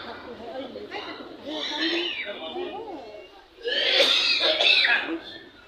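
A man coughs in rough, heavy bursts, two loud fits separated by a short pause.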